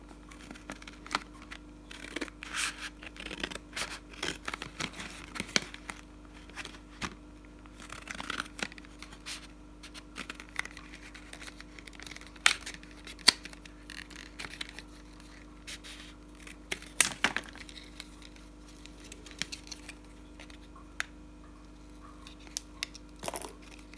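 Cardboard boxes being cut by hand for a DIY wedding wishing well, with quiet scraping, snipping and crinkling sounds scattered irregularly over a low steady hum, close and fairly faint.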